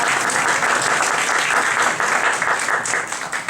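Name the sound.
audience applause at a lecture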